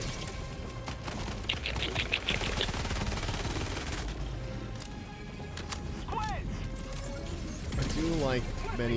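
Automatic weapon fire in the video game Helldivers, rapid bursts of shots mixed with explosions and chaotic game effects under a busy, layered soundscape, with some whirring sweeps.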